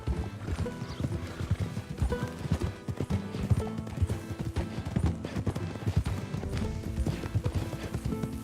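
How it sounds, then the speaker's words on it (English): Hooves clip-clop steadily in Red Dead Redemption 2 as a donkey walks, a continuous rhythmic clatter of steps up close, with an animal's bray or whinny mixed in and no talk. "It's just a donkey"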